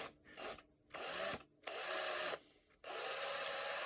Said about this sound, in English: clean out these holes and gently drill